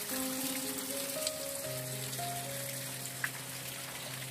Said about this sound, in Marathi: बघा पूर्ण झऱ्याचं पाणी येते.